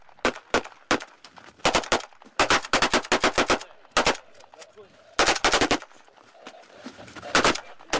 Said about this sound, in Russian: Сначала в ход идут взрывпакеты, ну а потом бойцы по всем правилам тактической войны начинают наступление.